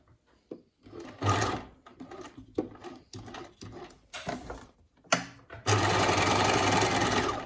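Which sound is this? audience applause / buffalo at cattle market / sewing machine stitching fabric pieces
sewing machine stitching fabric pieces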